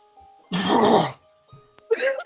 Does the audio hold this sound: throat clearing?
yes